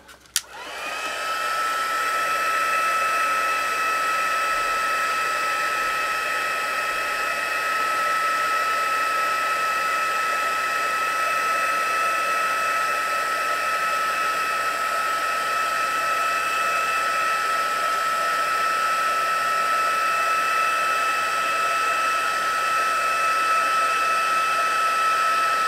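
A hair dryer runs continuously at close range, drying paint on a handmade incense holder, with a loud steady whir that starts with a click and holds unchanged throughout.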